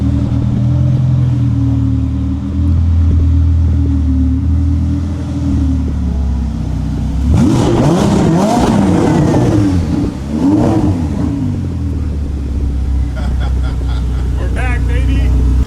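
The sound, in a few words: Ferrari 488 being driven, engine revving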